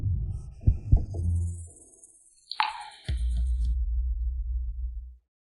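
A heartbeat sound effect with a couple of thumping low beats, a brief sharp swoosh, then a dull throbbing hum that fades out.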